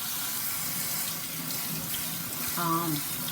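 Running water from a tap splashes over freshly picked dandelion flowers being rinsed for dandelion wine, a steady close hiss and patter, with a brief voice or clatter near the end.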